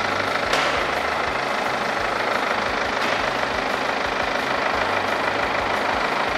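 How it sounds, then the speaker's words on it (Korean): A BMW X3 xDrive 20d diesel SUV engine idles with an even, low rumble and a constant clatter, continuous throughout with no voices. "엔진 소리 일정하고 좋습니다"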